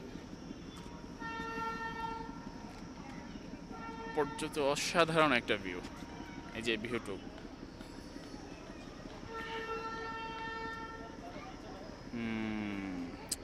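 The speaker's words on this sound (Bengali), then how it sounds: "ট্রেন চলে এসছে সম্ভবত ট্রেন না ট্রেন আসছে" A train arriving in Darjeeling, with sustained tonal horn-like blasts sounding twice at mid distance over steady rumbling background noise while people talk nearby.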